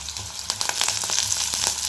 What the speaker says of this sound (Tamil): இப்போ இதை நல்லா வதக்கி விட்டுக்கலாம் நல்லா வதங்கட்டும்